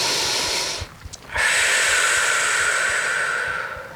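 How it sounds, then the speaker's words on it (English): A long, steady breath drawn in during a yoga stretch, a broad airy hiss filling most of the moment after a brief pause, close and fairly loud with no talking. "Take a breath"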